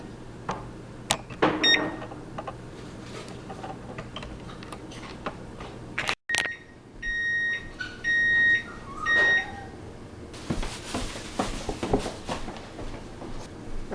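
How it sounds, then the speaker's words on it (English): An oven's control panel, set to bake for 8 minutes, gives a few short electronic beeps over a quiet room hum, with a louder cluster of tones midway. "Set it to bake, make sure it's baked, and put it for 8 minutes."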